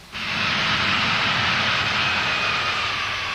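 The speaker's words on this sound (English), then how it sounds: "These A-10 ground attack planes depart Saudi Arabia, their moves elaborately choreographed." A-10 ground attack jets departing an air base in Saudi Arabia during the 1991 Gulf War, a loud sustained roar of jet engines that rises quickly and holds steady throughout, with no voices.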